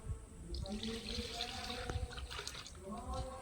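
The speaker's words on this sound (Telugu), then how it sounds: "ఇప్పుడు మనం చింతపండు పులుసు పోసేద్దాం" Tamarind juice is poured into a pot of raw banana pieces and green chillies for a tangy stew: a steady, close liquid splash and trickle throughout, with a faint voice-like tone in the background.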